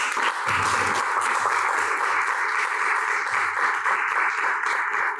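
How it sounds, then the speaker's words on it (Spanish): Students at a school debate for electing the 2023 student representative at Colegio Laura Herrera de Varela give a loud, sustained round of applause, a dense, steady clapping that fills the whole stretch. "Les pido que entre ustedes se den un fuerte aplauso."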